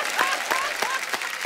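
Studio audience applause on a television comedy talk show, steady dense clapping from a crowd that swells in a few bursts, with a voice faintly audible underneath.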